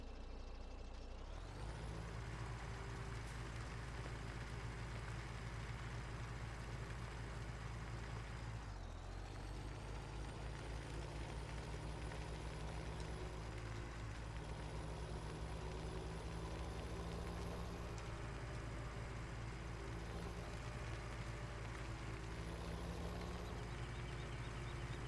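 A chip truck's engine in Farming Simulator 17 runs with a steady low diesel drone and drivetrain whine, revving up near the start and again partway through, continuous and fairly quiet with no talk.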